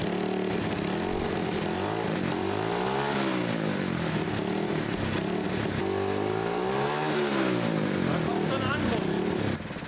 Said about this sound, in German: deswegen Gang rein und beide Radialgebläse hochfahren